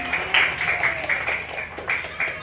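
Classroom applause for a student, a brief ragged burst of children's hands clapping, with a few sharper claps standing out near and a quieter patter in between.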